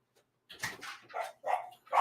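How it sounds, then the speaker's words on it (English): A dog barks close by, giving four or five sharp yips and barks in quick succession after a brief silence, fairly loud and indoors, with no talking over them. "You're barking. You're such a barker."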